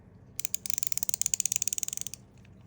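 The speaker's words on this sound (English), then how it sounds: "It is slightly louder, but a very tactile, enjoyable ratcheting mechanism." A Wera 838 small ratchet screwdriver clicks through its ratcheting mechanism in a rapid, even run of about thirty crisp, close ticks over roughly two seconds, with no voice over it.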